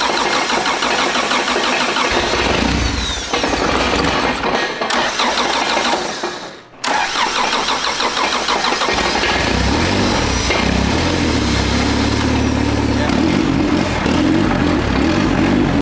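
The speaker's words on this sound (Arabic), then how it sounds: "وفعلا المحرك بيستجيب وبيشتغل، ولكنه بيكون فيه تقطيع" A 1994 Acura Integra engine, started directly from the battery, cranks and catches, then runs loud and uneven, sputtering and misfiring with a rough, lumpy rhythm close by.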